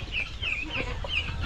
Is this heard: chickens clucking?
yes